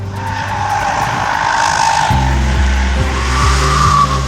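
Tires squeal as a Kia Niro plug-in hybrid drifts, a loud, sustained skid that builds over the engine's low drone and wavers near the end.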